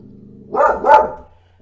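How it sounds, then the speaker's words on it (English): A dog barks twice in quick succession, two loud close woofs within about half a second, followed by quiet. "I know dogs barking."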